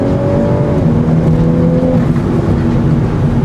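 Audi S4 B9 engine at full throttle in manual mode, a loud, continuous rising roar heard close up for a few seconds, with no talking.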